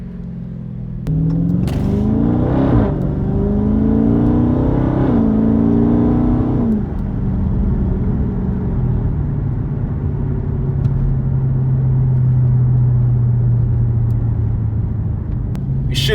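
A 2018 Dodge Charger Daytona 392 with its mid muffler deleted, heard from inside with the windows down, revs loudly and accelerates, then settles into a deep, droning exhaust rumble while cruising.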